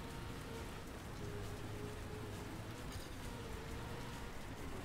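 Steady rain hisses across the surface of the Dana's Valley track in a racing video game, a faint, constant wash with a low engine hum beneath and no talking.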